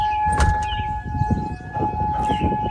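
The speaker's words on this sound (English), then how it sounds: "That is a tornado siren," A loud neighborhood tornado siren sounds a steady, sustained wail during its monthly first-Wednesday severe weather test, with low rumbling background noise beneath it.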